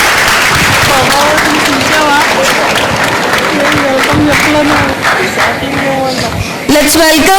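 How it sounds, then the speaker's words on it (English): Audience applause during a knowledge session at a chartered accountants' event, steady clapping filling the room while a presenter speaks over it on the microphone. "With a big round of applause."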